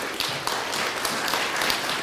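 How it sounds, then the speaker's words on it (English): A Lutheran church congregation at Sunday worship applauds a newly baptized young member. Steady, dense clapping fills the room evenly for a couple of seconds with almost no talking. "Can we have a round of applause for our newest member?"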